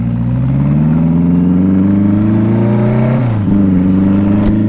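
The engine of a 1986 BMW K100 motorcycle revs up steadily and loudly, its rising drone climbing in pitch for about three seconds. It drops back briefly, then holds at a high idle, heard close and with no talking.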